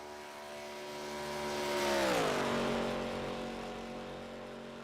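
A race car speeds past the start-finish line on a qualifying lap. The engine drone grows louder as it nears, drops in pitch as it passes close by, then fades away.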